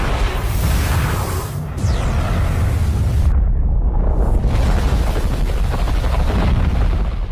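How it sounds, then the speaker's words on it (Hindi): Deep, rumbling blasts roll on continuously, loud and sustained, like distant bomb explosions echoing across open ground. "राजस्थान के पोखरण में एक के बाद एक लगातार 3 बम धमाके होते हैं"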